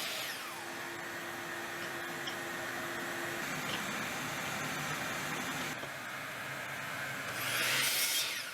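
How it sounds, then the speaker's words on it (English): A miter saw with a clamped stop block cuts wooden pieces, 27 centimeters long, for a wine rack. The steady, loud whir runs almost unbroken throughout, rising in volume near the end, with no voices. "To cut 180 pieces of 27 centimeters, I clamped the stop block to the miter saw"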